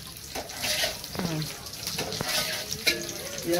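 Potato chops coated in gram-flour batter sizzle and hiss steadily in hot oil at a village iftar cook-up, a dense broadband crackle close by, with brief clinks and faint voices underneath.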